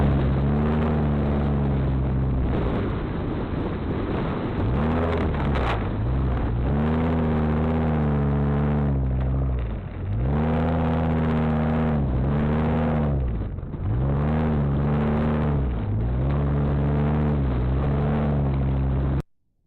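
A lifted Jeep Wrangler-based overland camper van grinds along an off-road trail, its engine droning continuously and loud, the pitch dipping and swelling repeatedly as the throttle rises and eases over rough ground.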